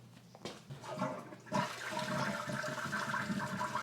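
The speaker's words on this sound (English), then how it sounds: "make sure you flush the toilet with the water off so you can get it all out before you do this" A toilet flushes with its water supply shut off, a close rushing, gurgling swirl that surges sharply after a brief lead-in and keeps draining steadily without refilling, heard alone.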